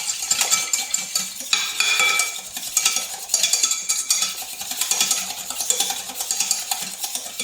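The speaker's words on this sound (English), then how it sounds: "It's going to make it really nice and smooth, continuously whisking" A whisk scraping and clinking steadily against a metal pan while custard thickens, with rapid, continuous metallic ticks and rattles close by and no talking.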